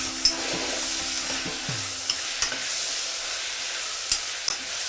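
Chopped medium-sized tomatoes hitting hot oil with garlic in a pan, a soft continuous sizzle with a few sharp spatters and light stirring scrapes, close by and with no talking.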